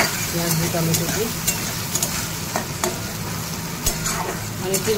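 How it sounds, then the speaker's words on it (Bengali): Onion and tomato frying in a kadai for fish curry, a continuous close sizzle with regular scraping strokes of a spatula stirring, and faint talk in the background. "দিয়েছি কড়াই, মাছের ঝাল হবে পেঁয়াজ দিয়ে টমেটো দিয়ে।"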